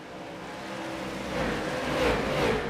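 Race cars circle the South Boston track, their engines a steady, moderately distant drone that swells as the field accelerates through a turn.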